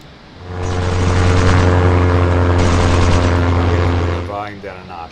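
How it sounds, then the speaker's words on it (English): Video-game interceptor aircraft engage, producing a loud, steady engine drone with a strong low hum and whine that swells in and holds for several seconds before fading, ending in brief warbling effects. "This is what most of the interceptors sound like when they're engaging."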